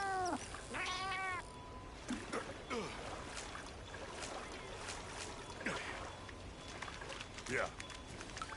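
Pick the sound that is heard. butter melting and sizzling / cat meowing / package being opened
cat meowing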